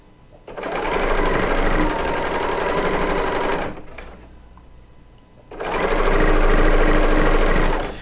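A serger sewing machine stitches quilt seams in two loud, steady bursts of rapid mechanical chatter, with a brief pause between them where the motor stops.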